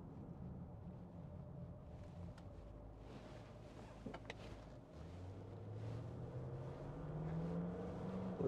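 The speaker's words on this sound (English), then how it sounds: "Listen to that engine" A 2007 Range Rover Vogue's 3.6 TD V8 engine growls steadily from inside the cabin, rising in pitch toward the end, with gusty wind buffeting the microphone throughout.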